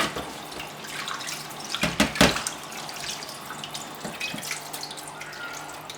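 Sheep intestines rinsed under a running kitchen tap, a steady close wash of water with splashy bursts as the casings are worked by hand, no talking.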